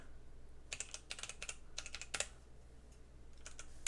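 Close, quiet typing on a computer keyboard while entering Roblox script code, in short bursts of rapid keystrokes separated by pauses.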